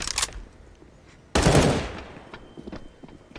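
Gunfire in a Counter-Strike match at a 2023 Paris Major between G2 and Fnatic: a short burst of shots followed by one loud, sharp report that rings out and decays, with fainter shots trailing after.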